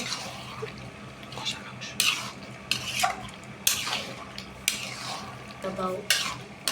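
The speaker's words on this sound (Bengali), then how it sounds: "এবার মাংসগুলো ভালোভাবে কষিয়ে নিব" Soft sizzling of young goat meat browning in a pan, broken by repeated scraping strokes of a spatula, a stir every second or so, close by.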